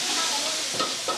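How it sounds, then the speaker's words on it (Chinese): Food stir-fried in a wok gives a continuous loud sizzle and hiss, broken near the end by a couple of brief scraping stirs. "炒菜。"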